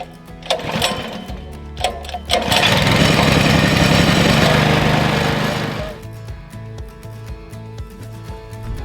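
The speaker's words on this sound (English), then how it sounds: "That's your choke, turn that on, and then got your switch down here, turn that on, and then full start." An Aus Agro mini silage bale wrapper's small engine is started with the choke on: a few clicks and a pull, then a loud, steady mechanical roar for about three seconds before it drops to a quieter, rhythmic idle nearby.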